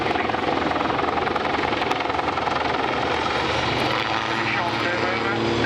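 A pair of helicopters roars loudly and continuously, a broad rotor and engine drone filling the whole stretch, with no gaps or letup.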